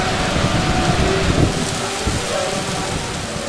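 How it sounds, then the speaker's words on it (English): Heavy tropical rain pours down in Paraguay, a loud and dense hiss that drums steadily on surfaces. It continues without a break and covers any faint music underneath. "The music can't compete with the downpour"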